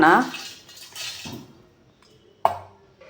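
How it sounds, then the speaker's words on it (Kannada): Shrimp dry-roasting in a pan for a brinjal dish: metal utensil scrapes and clinks against the pan, with a sharp clank near the end, fairly close with quiet gaps between. "ಸೀಗಡಿ ತೊಗೊಂಡಿದ್ದೀನಲ್ಲ, ಅದು ಹಾಕ್ಕೊತಾ ಇದ್ದೀನಿ. ಹುರ್ಕೊಬೇಕಿದು."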